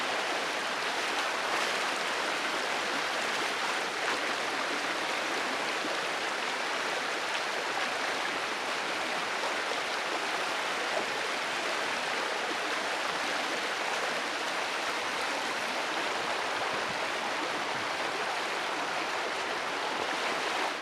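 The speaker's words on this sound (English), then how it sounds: "doing a quick rinse in the stream" Stream water flowing in the Ozarks during a camping trip while gear is rinsed, a steady broadband rush and splash running for about twenty seconds, close and even, with no speech.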